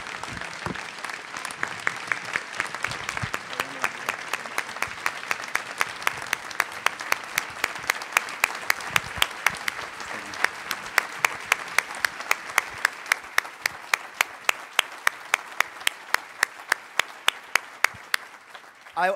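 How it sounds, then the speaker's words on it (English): A large audience of about 600 claps for four students at a student panel event, a long, even wash of applause that thins into scattered, distinct individual claps near the end. "Let's give a big round of applause for these four students."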